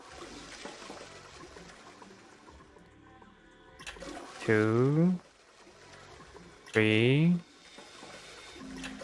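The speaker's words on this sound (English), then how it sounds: "I guess it is many times we flush for some reason." A toilet flushes twice in the video game Zero Escape 999, each flush a short rushing burst of water standing out over a steady low background, with someone talking quietly between them.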